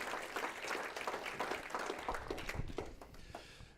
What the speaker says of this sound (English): Lauren, give him a round of applause.